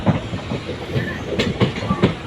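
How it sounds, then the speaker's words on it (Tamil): A passenger train rolls past close by on the Dindigul–Karur line, its wheels clattering in a loud, rhythmic clickety-clack with faint hissing and brief metallic squeals. "பேசஞ்சரு பாருங்கள் எவ்வளோ அழகாக ட்ரெயின் அப்படியே கிராஸ் ஆகுது பாருங்கள்"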